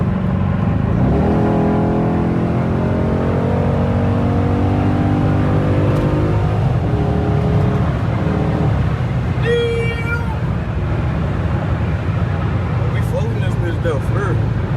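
A 2008 Dodge Charger SRT8 accelerates hard on the road, heard from inside the car: a loud, rising engine roar climbs through the revs, then settles into a steady drone, with someone talking over it.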